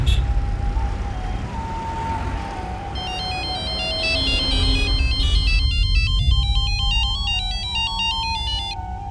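A phone rings as an outgoing call connects, with rapid repeating electronic trills entering midway over a low background bed.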